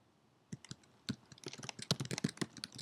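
Quiet clicks of a computer keyboard as a search is typed, starting with a few spaced taps and speeding into a quick run of close, light keystrokes with no talking.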